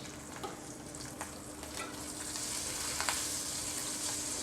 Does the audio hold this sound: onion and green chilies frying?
yes